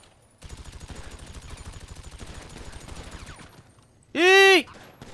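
Machine gun fire in GTA 5 rattles in a rapid, steady burst for about three seconds. A loud, wavering cry-like tone follows it.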